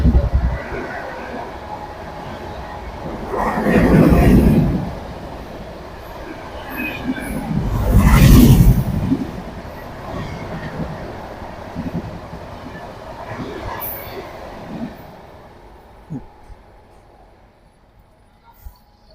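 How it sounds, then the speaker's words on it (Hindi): A train rolls past nearby, a rumbling, clattering wash that surges twice into loud peaks and then fades away toward the end. "ट्रेन आ रही है, निकल जाए फिर बात करते हैं"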